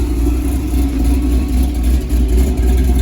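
Chevrolet El Camino engine running steadily after a timing adjustment, a deep rumbling idle with slight surges in revs, loud and close with no talk over it.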